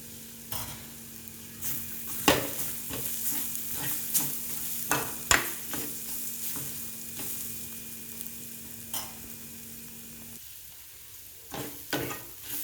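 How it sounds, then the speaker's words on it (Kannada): Coconut, ginger and garlic masala frying and being stirred in a pan, with a steady low sizzle broken by frequent sharp spatula scrapes and clinks, close and moderately loud, no talking. "ಅದು ಒಂಚೂರು ಮಸಾಲೆ ಫ್ರೈ ಮಾಡಿದ್ರೆ ಚೆನ್ನಾಗಿರುತ್ತೆ."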